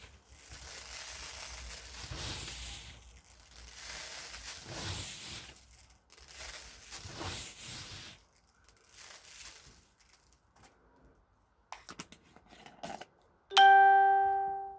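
Seeds rattle and rustle as they are scooped and poured into a jar in uneven bursts, ending with a loud bright chime.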